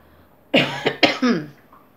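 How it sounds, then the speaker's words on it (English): A few sharp, close coughs in quick succession, loud and raspy, with brief gaps between them in an otherwise quiet room. "I've got this cough thing going on."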